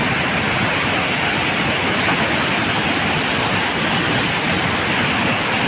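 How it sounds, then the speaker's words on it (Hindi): Water pours continuously from a gaumukh spout at a Shiva temple kund in rainy weather, a loud, dense, unbroken rushing hiss like a small waterfall, steady throughout with no voices. "वहाँ से परमानेंट पानी निकलता है।"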